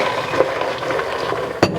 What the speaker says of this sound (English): continue to stir that about 2 to 3 minutes so that we are covering all of our pecans